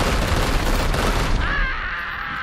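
A rapid, dense burst of gunfire in the video game Warhammer 40K: Chaos Gate Daemonhunters crackles and booms at close range, then fades into a lingering ringing tail.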